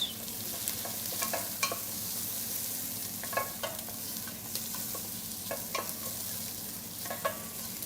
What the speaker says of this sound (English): I'll give the onion and garlic a little bit more of a stir